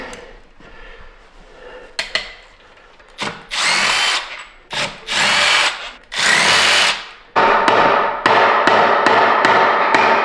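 A power tool works bolts loose on an F-450 truck, alternating bursts of loud whirring and rattling impacts with short pauses, then a sustained final run, close and with no talking.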